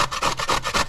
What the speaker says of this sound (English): we'll just grate the coconut